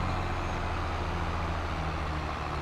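Tractor engine in a farming video game, a steady low mechanical drone that holds at an even level, moderately faint and continuous, with no talking.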